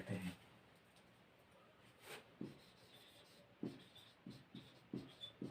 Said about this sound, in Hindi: तो हम इसको लिखते हैं।